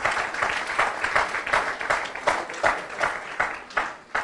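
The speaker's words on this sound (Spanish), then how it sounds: "Give a strong applause to the Lord." Church congregation clapping during a service, a fairly soft group applause that pulses in a loose, steady rhythm of repeated surges, as though people are clapping together in time.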